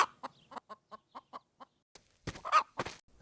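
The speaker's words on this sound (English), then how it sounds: "So I just added some chicken library sound here." Chickens cluck in a steady series of short, close pulses from a library sound effect, followed by a louder burst of busier squawking and clucking near the end, with no voices.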